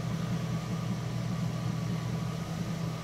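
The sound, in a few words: 1989 Jeep Wrangler engine idling at about 700 RPM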